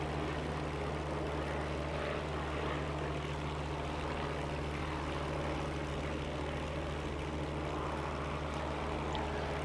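A P-51 propeller aircraft flies in the DCS World combat game, its engine a steady, droning low hum with constant propeller tone and airflow hiss throughout.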